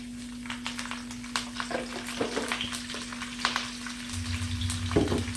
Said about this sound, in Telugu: కరివేపాకు మంచిగా వేగాలన్నమాట.